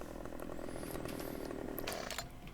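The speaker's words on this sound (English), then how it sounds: "I've been away and bought myself a chainsaw." A chainsaw from a farming simulator game drones steadily at moderate level, its buzzing engine broken by some higher rasping and clattering bursts near the end, with no talking.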